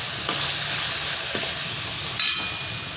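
Ridge gourd frying and being stirred in a pan, a steady sizzle with a few soft scraping stirs of the spoon, close and without talk.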